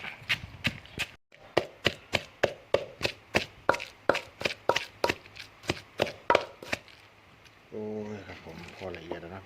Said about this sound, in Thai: ผมตำจนละเอียดนะครับ